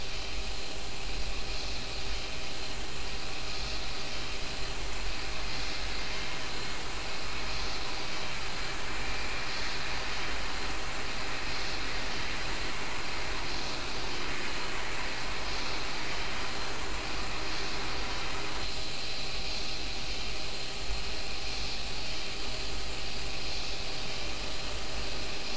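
Left engine of an Airbus aircraft spooling up during startup, a steady droning whine and roar heard from inside the cabin, constant and fairly quiet with a slight tonal shift partway through.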